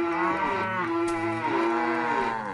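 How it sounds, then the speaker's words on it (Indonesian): A cow in the farming video game Farmville 2 gives one long, loud, close moo that holds a steady pitch for over two seconds, with no voices. "Oh, berisik sih kalau sapi, emang agak berisik ya."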